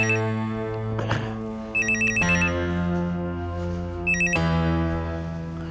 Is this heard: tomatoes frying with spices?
no